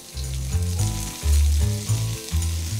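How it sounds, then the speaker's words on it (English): Onions fry in hot ghee with mustard seeds in a pan, a loud, close, steady sizzle with brief pulses as the pan is tossed, no voices. "A quick toss about in the pan and we let it fry for a little while."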